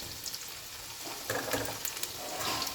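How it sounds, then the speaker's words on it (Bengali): Chopped onion and slit green chilies hit hot oil in a home kitchen pan, giving a faint, steady sizzle with a few brighter crackling bursts partway through. "আমি পেঁয়াজ কুচানোটা দিয়ে দেবো, কাঁচা লঙ্কা চিরা দিয়ে দেবো।"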